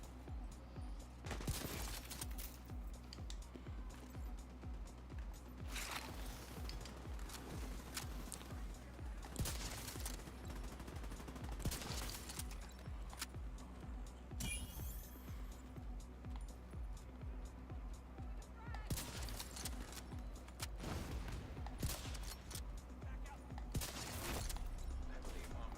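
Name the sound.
gunfire in video game The Division 2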